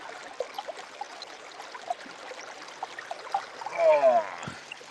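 River water flows in a steady, soft rushing wash with small gurgles and trickles close by, and a voice briefly rises over it near the end.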